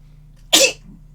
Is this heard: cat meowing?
no